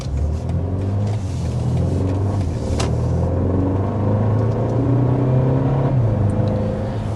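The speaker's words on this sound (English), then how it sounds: "we are speeding up to 55 miles per hour" A 2025 BMW X1 SUV steadily builds speed toward 55 mph on the road, a low continuous engine rumble and tire roar with rising pitch, heard from inside the cabin.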